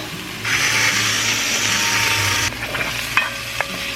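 Vegetables sautéing with pepper and salt for white bean chicken chili, a loud steady hiss of sizzling for two seconds, then quieter frying with a few clinks and scrapes of stirring, close up with no speech.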